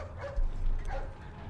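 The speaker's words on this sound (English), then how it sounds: "It's a dog." A dog in a video game barks over a low rumbling background, two muffled barks close together at moderate volume with no talking.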